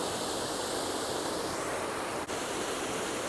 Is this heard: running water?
yes